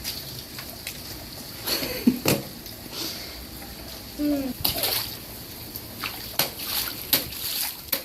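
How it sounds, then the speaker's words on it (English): A child splashing and stomping in a muddy rainwater puddle outdoors on a rainy day, giving irregular close splashes and sloshes between quieter trickling, with brief sounds of a voice in between. "Excuse me, you're splashing this way."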